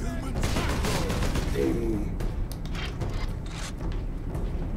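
Video game Warhammer 40k Space Marine combat: dense bursts of gunfire and crackling explosions as enemies blow apart, a continuous noisy barrage with sharp transient hits throughout.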